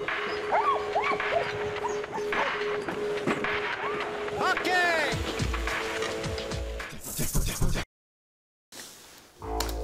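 Sled dogs in Labrador are released, yelping, whimpering and barking excitedly in a busy, overlapping chorus close by, with a voice talking over them and a brief silent break near the end.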